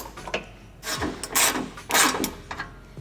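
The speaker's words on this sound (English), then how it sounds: "and then we'll follow it with the torque wrench" A torque wrench tightens nuts on an underbody shield and tunnel brace of an MK7 Volkswagen GTI, giving a few close, crisp ratcheting clicks in short bursts with brief gaps between them.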